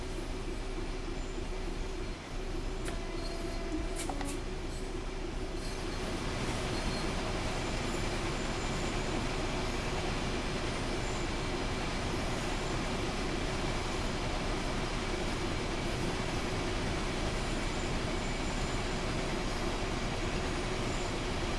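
A freight train in a train simulator video game rumbles steadily along the rails near Watford Junction on the West Coast Main Line, with a constant, dense roar and faint squeals, loud and continuous throughout.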